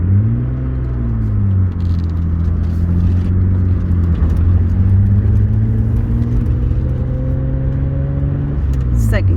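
A manual transmission car engine hums loud and continuous while being driven and shifted through gears, its low drone rising and falling in pitch, with a person talking over it.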